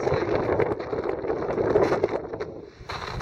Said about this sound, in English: It's north wind.